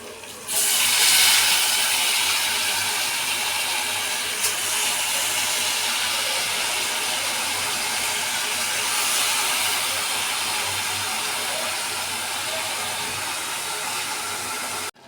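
Leafy greens for pachakura curry dropped into hot oil, giving a loud, sudden hiss that settles into a steady, broad sizzle lasting throughout.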